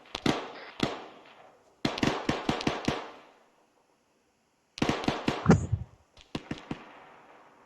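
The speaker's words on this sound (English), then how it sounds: "Last mortar round is long by 100 meters." Mortar rounds bursting in a military video game, arriving as clusters of rapid sharp cracking blasts separated by brief silences, with one heavier deep boom among them.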